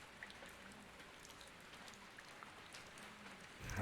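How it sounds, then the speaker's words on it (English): Steady, soft rain patters on a rooftop and drips into puddles at a bus stop shelter in a video game scene, an even hiss with scattered drop taps and no voices. "I heard the sound of rain pattering on the rooftop and the raindrops jumping into puddles"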